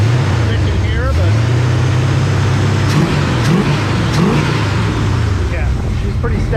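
A newly rebuilt car engine during break-in, idling loud and close with a choppy, lumpy beat and a few swelling revs.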